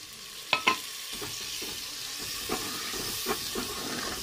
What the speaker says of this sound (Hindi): टमाटर को नरम होने तक भूनेंगे हम।